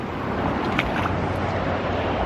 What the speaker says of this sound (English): Babbly Brook.